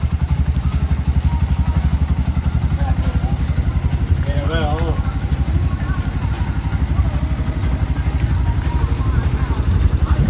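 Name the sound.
auto rickshaw engine idling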